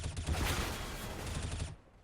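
Rapid automatic M4 rifle fire in a CS:GO match on Dust2 or Cache, a dense burst of shots lasting over a second and a half before cutting off, loud and close.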